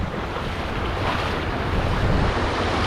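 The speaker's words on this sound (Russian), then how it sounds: "Волна." Sea waves wash onto Jumeira Open Beach in Dubai, a steady close surf hiss mixed with gusty wind buffeting the microphone, with no voices.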